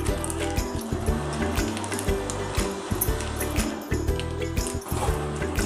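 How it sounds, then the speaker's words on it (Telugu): Milk pours steadily into a blender jar with a continuous splashing trickle, close and moderately loud, with no talking. "దీనిలో ఒక ప్యాకెట్ పాలు మనం పోసుకుంటున్నాము."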